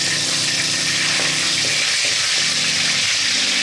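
Curry leaves hit hot oil with mustard and fenugreek seeds in a pan, giving off a loud, steady, hissing sizzle that continues unbroken throughout.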